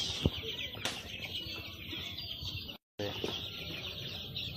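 Young ten-day-old chicks on a poultry farm cluck and peep continuously, with a dense chorus of high chirps and a few louder calls close by, broken by a brief silent gap.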